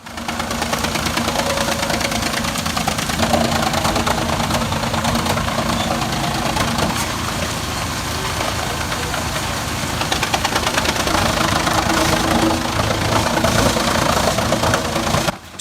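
A New Holland tractor's diesel engine runs steadily and loud throughout, with a knocking, rumbling idle-like drone while powering wood chipping of heavy macrocarpa.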